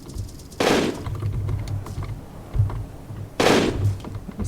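Two sharp bursts of rapid automatic machine-gun fire in a Roblox video game ring out, loud and close, over a low rumbling background.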